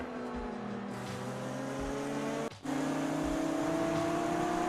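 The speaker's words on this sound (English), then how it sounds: "LMP2 coming through." An LMP2 prototype race car at Watkins Glen roars past at high revs, its engine note climbing with a brief gear-shift dip midway, loud and close over other circuit engine noise.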